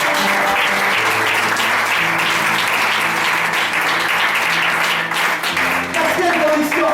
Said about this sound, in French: Est-ce que tu vas acclamer Dieu très fort?